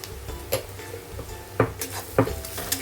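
Onions frying with salt in a pan for a cauliflower and rohu fish curry, heard as a soft sizzle under a few sharp utensil taps and stirring scrapes, close and quiet, with no speech.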